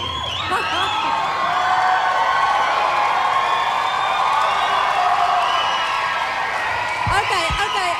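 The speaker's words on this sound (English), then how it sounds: "fabulous crowd" Big Brother Australia studio audience at an eviction night, a loud sustained roar of cheering and applause filling the whole stretch, with whoops and shouts rising through it and a few claps standing out near the end.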